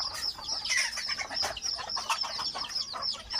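Thai fighting gamecocks cluck continuously in busy, overlapping bursts, close and fairly loud, with no talking.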